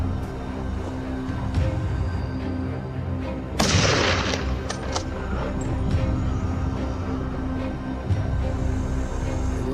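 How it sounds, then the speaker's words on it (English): A single sharp gunshot cracks out mid-clip during a wild boar hunt. It stands out loudly over a steady outdoor background, and fainter shots are scattered before and after it. "Gunshots rang out constantly as all the remaining hunters focused on these"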